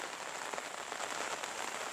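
Steady drizzle falling over rural fields and rice paddies, a soft, even hiss of fine raindrops pattering on surfaces nearby, continuous and unbroken, with no voices.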